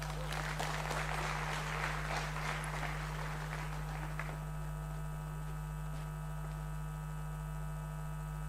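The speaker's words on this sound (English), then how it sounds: "Let's have a round of applause for her." Applause from the audience at the React Nexus 2025 developer conference, a dense clatter of claps over a steady mains hum that thins out after about four seconds, leaving only the hum.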